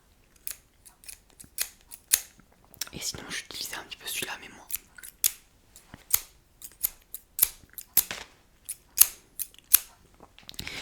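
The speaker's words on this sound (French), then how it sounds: "Enfin où elle est, la paire de ciseaux." A pair of scissors snaps open and shut in a string of sharp, close snips, spaced irregularly, while a soft whispered voice speaks between the cuts.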